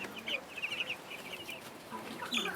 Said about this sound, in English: We have 90 chicken right now.